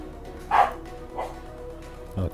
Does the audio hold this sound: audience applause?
no